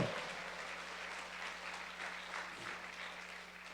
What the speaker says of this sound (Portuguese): Levante as mãos e aplauda o Senhor